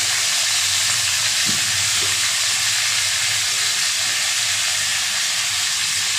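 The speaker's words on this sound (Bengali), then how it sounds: "বাটা মশলাগুলো একসঙ্গে দিয়ে কষিয়ে নেবো" Ground spice paste frying in oil with potato and pointed gourd for a fish curry, a steady, loud, unbroken sizzling hiss throughout.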